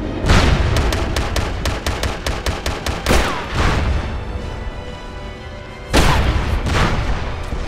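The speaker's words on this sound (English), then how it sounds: "You wait for the bomb and you might blow up." Loud, close bomb blasts in the SOCOM Combined Assault shooter, with a rapid burst of gunfire leading into a heavy boom and a second big explosion a few seconds later, all booming and dense.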